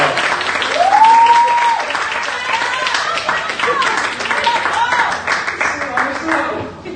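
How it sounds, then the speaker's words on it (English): An audience claps as a speaker comes up, with a dense round of applause that peaks early and then continues steadily. A brief tonal sound rises over it near the start and then fades toward the end. "Give her a hand clap as she comes."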